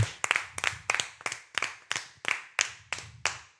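One person clapping hands alone for a team after an esports match, about ten evenly spaced sharp claps in a steady rhythm, close and crisp with quiet gaps between.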